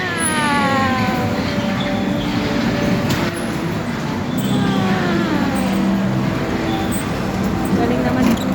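A train rumbles past nearby, loud and steady throughout, with rising and falling tonal whines over a broad roar; excited voices talk over it.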